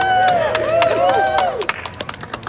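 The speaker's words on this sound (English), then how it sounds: "Hold the applause for the next one." An audience at a New South Wales local-council rally applauds and cheers, with whoops and whistles over dense clapping that thins into scattered claps.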